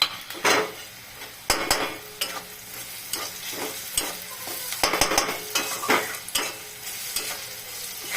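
Cauliflower with salt, turmeric and Kashmiri chilli stirred in a frying pan: repeated scraping spatula strokes in an uneven rhythm over a soft sizzle, close and fairly loud.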